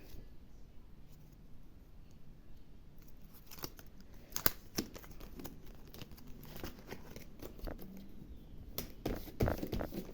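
A small plastic sticker packet is handled and opened, with crinkling, rustling and sharp snipping clicks scattered across the clip, close and fairly quiet.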